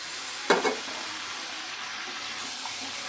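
Potatoes and eggplant hit a pan of hot spice and are stirred, giving a sharp scraping burst near the start before settling into a steady, close frying sizzle.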